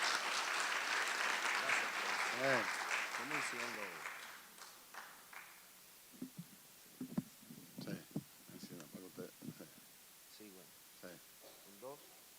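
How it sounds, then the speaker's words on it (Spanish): Audience applause welcoming the next speaker at an international law congress, a broad burst of clapping for about four seconds that fades out, followed by someone talking into a microphone. "Nuestro próximo ponente, por favor, los aplausos."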